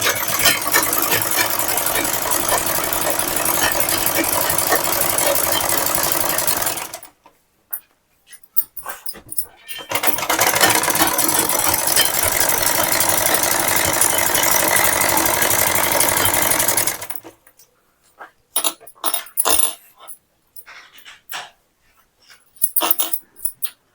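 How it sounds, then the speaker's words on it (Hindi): Electric sewing machine stitching blouse fabric, two long continuous runs of steady whirring, each lasting several seconds, separated by quiet handling noises and clicks. "यदि अगर आपको नीचे तुरपाई नहीं करनी है, केवल सिलाई लगानी है, तो इस तरह से आप सिलाई लगा लें।"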